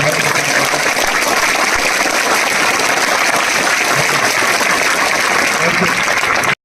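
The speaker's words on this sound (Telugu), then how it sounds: "ఒక్కసారి గట్టిగా చప్పట్లు పెడితే" A crowd of students claps loudly and continuously, a dense wash of applause that holds steady before cutting off abruptly.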